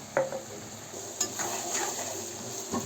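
Cumin seeds fry and sizzle softly in a pan while being stirred for mango chitranna, with a few light scrapes and taps of the spoon against the pan over a steady quiet crackle.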